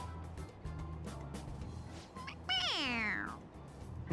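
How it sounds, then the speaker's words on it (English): A cat-shaped toy in a video game lets out a clear, rising-and-falling meow, preceded by soft electronic chirps and faint game background sounds. "It meows when you press on its head."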